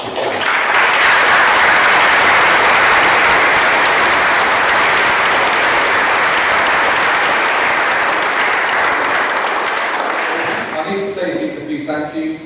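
A large audience at a school speech day claps steadily for around ten seconds, a loud, dense wash of hands that fades near the end as a voice begins to speak.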